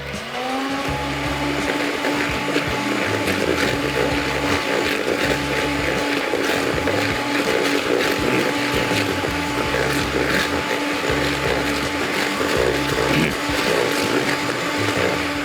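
An electric mixer whirs steadily while beating butter and sugar for a cake batter, a loud continuous motor drone with a rhythmic pulsing beneath it, close and without speech.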